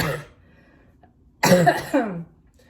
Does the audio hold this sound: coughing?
yes